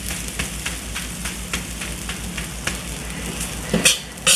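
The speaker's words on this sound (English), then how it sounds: "Here it's sizzling. That's the noise you want to hear." Fried rice sizzles steadily in a hot pan, a dense crackling hiss with scattered pops and a couple of louder bursts near the end, as if stirred, with no one talking.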